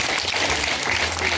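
Dense, steady applause from a wedding audience, a continuous wash of many hands clapping at once.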